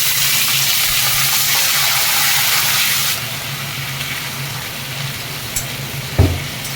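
Cut potatoes drop into hot tempering oil with whole spices for an Indian potato curry, setting off a loud, steady sizzle that hisses strongly at first, then settles into a softer fry with a few clinks.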